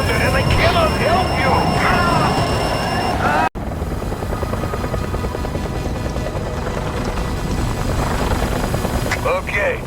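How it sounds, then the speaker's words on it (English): A helicopter flies in the SSX (2012) snowboarding video game, its rotor and engine roaring loud and steady alongside wind noise, with voices talking over it throughout. "Hard part's getting out of your chopper the way you're flying it."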